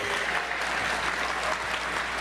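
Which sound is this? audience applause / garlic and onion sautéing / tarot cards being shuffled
audience applause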